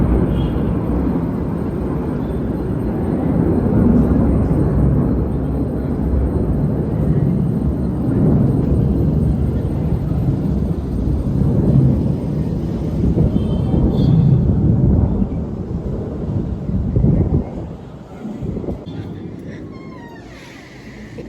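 An airplane passes overhead with a heavy, broad roaring rumble that holds steady for about fifteen seconds, then fades away as it moves off.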